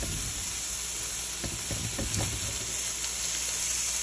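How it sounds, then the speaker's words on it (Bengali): Broccoli sautés in a hot pan with a steady, close sizzle and hiss, while a few soft scrapes and knocks of stirring come through in the middle. "ব্রকলিটা 2-3 মিনিট সটে করে নামিয়ে নেব"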